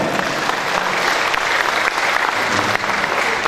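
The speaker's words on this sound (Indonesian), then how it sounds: "Tepuk tangan buat Mbah Nomo." Audience applause at a Prabowo Center declaration rally in Boyolali, greeting the artist Mbah Nomo Kuswoyo; steady, dense clapping from a large crowd, loud and sustained throughout with no speech.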